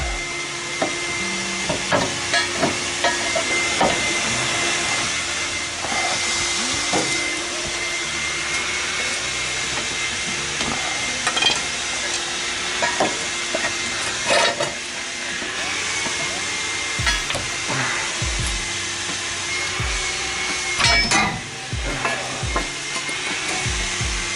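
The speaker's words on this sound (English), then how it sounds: "My sister is currently vacuuming her car right next to me" A vacuum cleaner cleaning a car whines steadily close by, with scattered clunks and knocks throughout.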